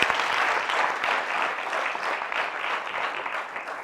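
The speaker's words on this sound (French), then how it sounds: "nous allons applaudir la coach Fatim" An audience applauds coach Fatim at a slam café event, a dense, steady wash of clapping that fills the room and holds evenly throughout.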